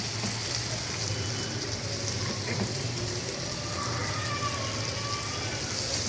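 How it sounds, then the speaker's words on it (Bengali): Garlic and shrimp fry in butter with a little oil, giving a steady, close, continuous sizzle that stays level throughout with no talk over it. "রসুনগুলো বাটার আর সামান্য তেল দিলাম, এর মধ্যে টেলে নিচ্ছি। সাথে টাইম যেহেতু বেশি নাই, চিংড়ি মাছগুলোও দিয়ে দিচ্ছি।"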